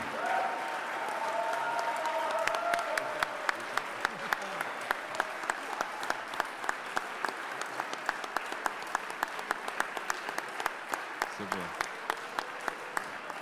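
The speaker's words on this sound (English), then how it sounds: "I want you to give him a big hand of applause." Audience applause at a chefs' congress award ceremony, a dense steady wash of clapping lasting throughout with sharp individual claps standing out, and voices and cheering mixed in near the start.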